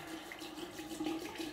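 Hot water running from a tap to wet a shaving brush in a mountain setting, a steady close splashing stream without pause and with no talking.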